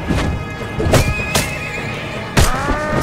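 Horse neighing in the video game Mount and Blade Warband, several loud whinnies spread over a few seconds with hoof clip-clop and in-game music underneath.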